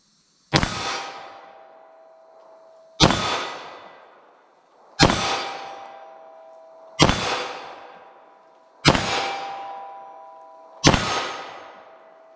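Six slow, evenly spaced 9mm handgun shots are fired at a 12-yard target, each a sharp loud crack with a ringing decay, separated by a couple of seconds of quiet and no talking.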